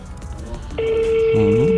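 A telephone ringing while calling a shop's customer: steady electronic ringback tone starting partway through, loud and close, over background chatter and voices.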